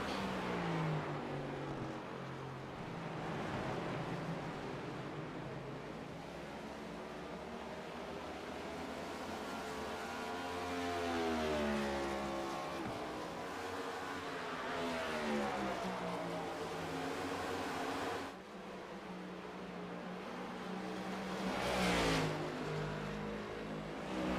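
Race cars running laps at speed at World Wide Technology Raceway in the iRacing sim, a steady layered engine drone with rising and falling pitch sweeps as cars pass, loud and continuous with no talk.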